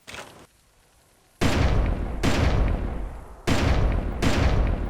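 Loud gunshots at a giant Arthropleura bug in the hunting game Carnivores, four heavy booming blasts spaced about a second apart, each with a long decaying tail, following a brief quieter start.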